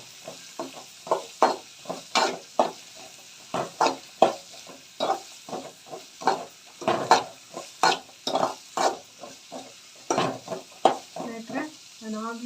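Capsicum stir-frying in a pan of oil, with a steady sizzle broken by repeated rhythmic scrapes and stirs of a spatula, close and clear with no talking.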